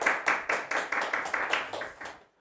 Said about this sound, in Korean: 우리 서로 박수 한번 치겠습니다